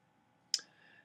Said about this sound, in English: And after that, I just click on save.